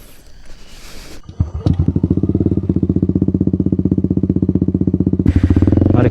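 Yamaha Aerox scooter fitted with a Krace Ultra Samlong exhaust starts and settles into a steady, throbbing idle, loud and close, with a sharp racing-style pulse and no talk.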